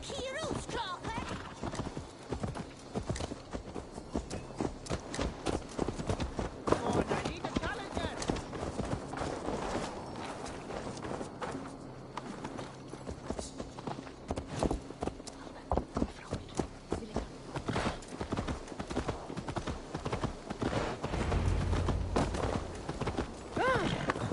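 Horse hooves clip-clop steadily in the Assassin's Creed Valhalla video game, a continuous rhythmic trot close by, with game dialogue and background sounds layered over it.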